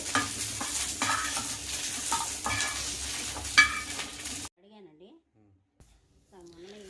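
Ingredients sizzle and crackle in a pan for a chinta chiguru pallila pachadi, a tamarind-leaf and peanut chutney, with stirring scrapes over about four seconds. The frying then cuts out, leaving near-silence and a soft voice.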